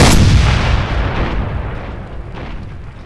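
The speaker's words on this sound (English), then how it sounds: "I'm gonna fire it one more time in case the first shot blew your ears out." One loud, booming gunshot from a gun in Dead Island Riptide, hitting hard at the start and then fading out in a long rumbling echo with no other sounds.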